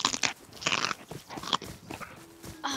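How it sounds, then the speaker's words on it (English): Crunching, crackling bursts in the video game Rust, a few sharp broadband hits spread across a couple of seconds, moderately loud with a faint tonal hum near the end and no speech. "You guys hear that crunch?"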